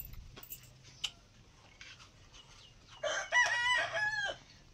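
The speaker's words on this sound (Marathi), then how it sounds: "कोंबड्या ही वराडतात त्या." Chickens cluck and squawk in a burst of harsh, rising calls near the end, after a quieter stretch of scattered faint clucks and small knocks in a rural yard.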